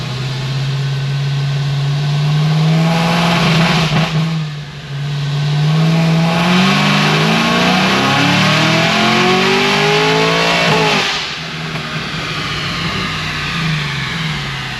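An 800-horsepower Cadillac CTS-V on 93 octane pulls hard through third and fourth gear, its loud V8 roar climbing steadily, dropping briefly at the shift, then climbing again before easing off.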